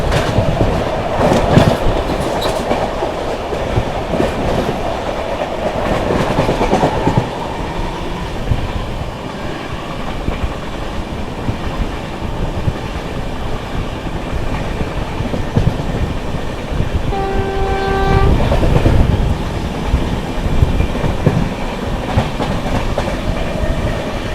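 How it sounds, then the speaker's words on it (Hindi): The Sambalpur Jammu Tawi Express passes by on a crossing, a continuous loud rattle and clickety-clack of wheels on track, with a brief tonal horn blast near the end. "सामने से आती हुई संबलपुर जम्मू तवी एक्सप्रेस।"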